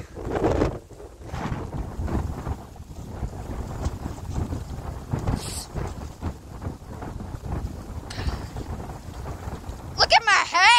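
Strong wind roars and buffets a microphone outdoors on a windy day, a steady loud rumble that lasts throughout, with bursts of gusting and a brief rustle near the end.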